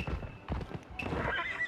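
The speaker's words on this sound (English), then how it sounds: "This is a very pretty horse." A horse in the video game Rise of the Ronin whinnies and snorts while hooves clop on the ground, close and moderately loud, with a second rising neigh toward the end and no talk.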